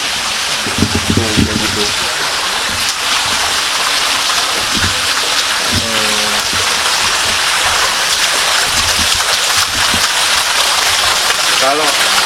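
Water pours steadily from a spring-fed fountain spout at an old legendary site, making a continuous loud rushing splash. People talk over it throughout.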